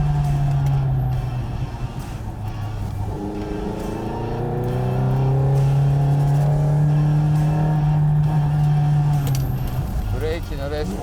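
A Nissan 240RS Group B rally car pulls hard in third gear from around 4000 rpm, its engine note climbing steadily and loudly from the cabin while someone talks over it.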